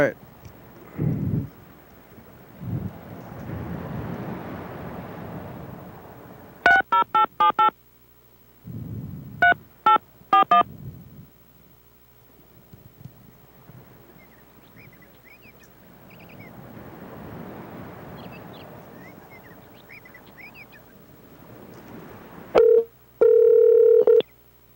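Several bursts of telephone keypad tones as a number is dialed, short separated beeps in clusters, with talking and rumbling background noise between them and a final steady tone.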